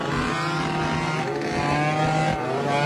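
Motorcycles fitted with big exhausts revving hard at a crowded local event, a steady, loud, droning engine roar with rising and falling throttle that fills the whole stretch without letup.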